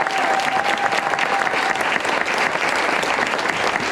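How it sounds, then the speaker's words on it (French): Loud, sustained audience applause filling a live stage show, steady dense clapping from a crowd with no break across the whole stretch. "On peut applaudir Robin."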